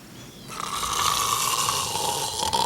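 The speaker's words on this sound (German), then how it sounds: "Oh, 9 wunderbare Schnarcher." One long, loud snore from a sleeper, a rasping drawn-out rumble that swells in after a quiet start and holds until it trails off, with no talking over it.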